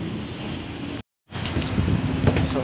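Strong wind roars against the microphone in broad gusts, cut by a brief moment of silence before resuming.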